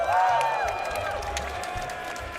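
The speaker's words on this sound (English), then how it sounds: "y'all in the crowd, can y'all make some noise for Char one more time" A tournament crowd at a fighting-game finals event cheers and applauds in a steady, dense wash of clapping and voices, with a few whoops rising above the noise.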